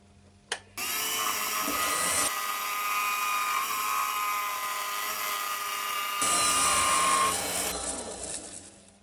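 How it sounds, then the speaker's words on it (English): A small scraper works a spinning wood lathe blank for a rustic garlic pot, giving a continuous high whining scrape for several seconds between quieter motor hum at the start and finish. "I'm just going over it with a little scraper till that's disappeared."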